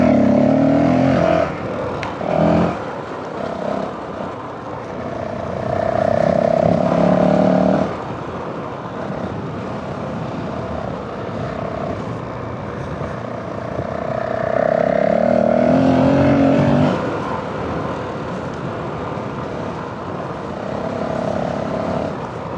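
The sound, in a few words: Honda CRF450L motorcycle being ridden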